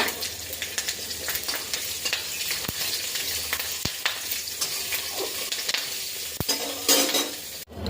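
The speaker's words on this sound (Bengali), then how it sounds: "আর ওই তেলের মধ্যে পাঁচফোড়ন আর কাঁচা লঙ্কা দিয়ে একটু ভেজে নেব।" Mustard oil sizzles and crackles steadily in a kadai as panch phoron and green chillies fry, with occasional stirring scrapes and light clinks of a utensil against the pan.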